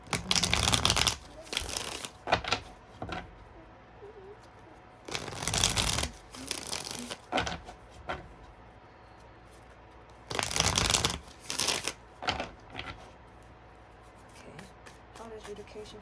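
Tarot cards are shuffled in several loud, close riffling bursts separated by quieter pauses.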